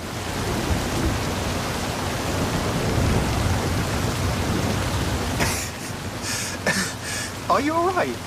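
Heavy rain roars in a steady broadband wash during a storm in the Forza Horizon 5 video game. The rain then cuts off abruptly and people begin talking.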